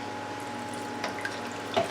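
Drops of water fall into pie crust dough for a mango pie, a few faint soft drips and taps over a quiet steady background hum, the clearest one near the end.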